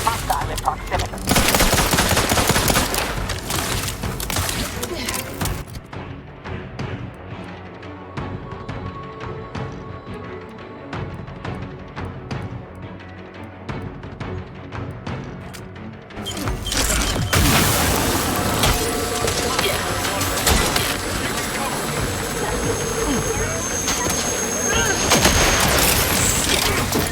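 Gunfire in The Outer Worlds 2: heavy automatic bursts and booming shots rattle loudly, ease into a thinner, quieter patch in the middle, then surge back to dense, continuous firing.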